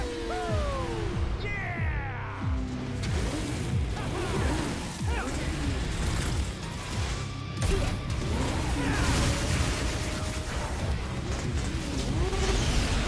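A motorbike engine revs in a Devil May Cry 5 trailer, buried in a dense, loud mix of crashes, impacts and game effects that runs the full length without a break.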